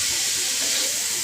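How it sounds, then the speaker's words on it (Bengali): Cauliflower rice being stirred in a frying pan, giving a steady, close hiss and sizzle with soft scraping throughout a short moment. "এবার ভালোভাবে নেড়ে চেড়ে নিয়ে এটা"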